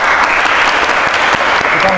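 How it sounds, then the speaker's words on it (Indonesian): Loud, close applause from a university seminar audience, a thick steady burst of clapping for two seconds with a faint voice briefly audible near the end. "kita tepuk tangan untuk beliau"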